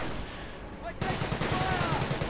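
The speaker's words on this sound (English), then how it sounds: "Ready to go in, guns blazing on those Panzer Grenadiers" Bursts of automatic gunfire from a Bren carrier in a World War II video game break out loudly after a quieter lead-in and keep rattling steadily to the end, with no voices.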